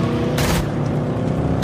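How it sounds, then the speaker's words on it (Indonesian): Gunshots ring out in an action film scene where thugs open fire on a man, with two sharp loud bursts over a rumbling background. "Para pelaku melepaskan tembakan ke arah Russo."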